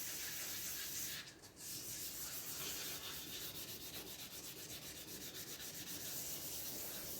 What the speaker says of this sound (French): Donc on ponce en faisant des petits ronds